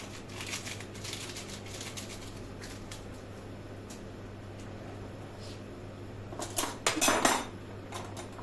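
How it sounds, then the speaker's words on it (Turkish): A spoon whisks eggs in a bowl, one yolk separated, with a little powder added, making fast rhythmic clinking and tapping against the bowl, light at first and then a loud, busy burst near the end over steady kitchen hum. "Kaşık yardımıyla bunları bir güzel çırpıyoruz arkadaşlar"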